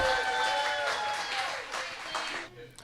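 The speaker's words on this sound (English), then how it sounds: "Give him a big round of applause." Audience applause at a comedy show during a themed party event as the next act is introduced, a short, fairly faint burst of clapping that fades within a few seconds.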